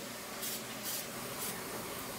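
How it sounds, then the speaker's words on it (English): An aerosol spray can hisses in short bursts onto a hand while snickerdoodles are being made in a home kitchen, with three soft, evenly spaced sprays over a steady background hum. "I'm going to spray my hand"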